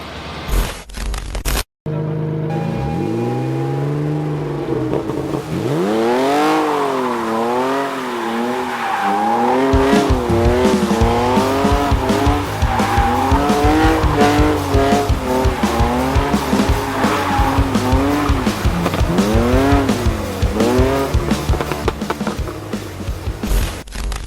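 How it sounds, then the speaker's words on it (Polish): A BMW is driven hard at night, its engine revving up and down through repeated sweeps with tire squeal and skidding noise, loud and close with no talk over it. "auto jeździ i zasuwa"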